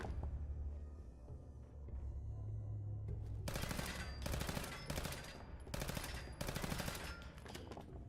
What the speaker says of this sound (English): they can shoot me through the grates